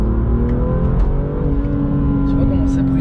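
BMW M2 Competition under hard full-throttle acceleration, a loud sustained engine drone with a rising harmonic pitch heard from close inside the car, with people talking over it.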